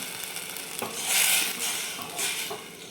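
A besan, curd and turmeric mixture stirred into hot tempering for kadhi in a pan, bursts of hissing sizzle swelling with each stirring stroke over a steady frying background, close and without talk.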